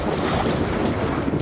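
Steady wind roars across the microphone aboard a sailboat running under its genoa on a fine day near Fishing Bay on the Chesapeake, with water rushing past the hull in a continuous, close, loud wash.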